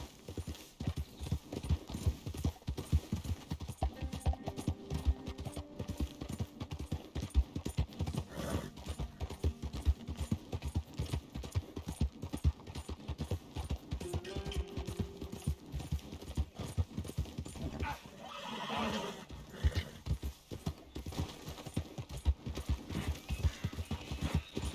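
Horse hooves clip-clop at a steady rhythm for a long stretch in Red Dead Redemption 2, with a brief whinny partway through and faint game sounds around them.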